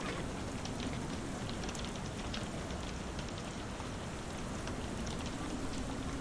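Steady rain pours onto the streets in the Sherlock Holmes The Awakened video game, a dense continuous patter and hiss at moderate loudness with no voices.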